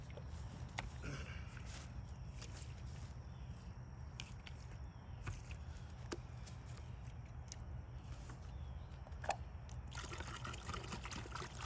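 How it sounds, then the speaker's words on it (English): Water poured into a bucket for cleaning a heavily stained headstone, a faint continuous trickle with occasional small clanks and knocks, no talking. "So I like to put about 3/4 to a gallon of water in the bucket."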